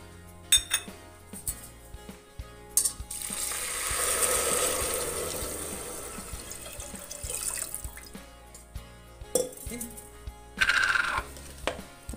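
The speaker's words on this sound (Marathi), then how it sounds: "आता याच वाटीने मी दोन वाट्या तांदळासाठी चार वाट्या पाणी घालणार आहे।" Water poured from a bowl into a pot of rice, a rushing pour swelling in the middle, framed by clinks of metal vessels and utensils before and after.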